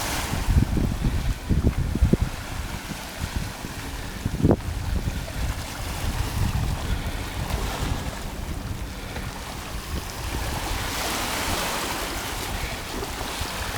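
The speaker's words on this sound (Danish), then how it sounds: "Og nu kan vi sådan lige så stille begynde at høre bølgernes brusen." Sea waves wash onto the shore at a Sharm El-Sheikh beach in rolling surges, close by, with gusts of wind noise on the microphone and no talking.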